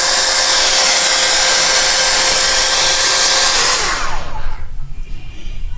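Hair dryer blowing on its high heat setting, a loud steady close-up whoosh with a motor whine that runs evenly for about four seconds, then cuts off, leaving faint handling noise.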